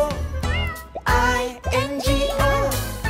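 Sung meows from a cartoon cat in a kids' nursery rhyme come in several loud, melodic bursts over a bouncy musical backing, a voice imitating the sound.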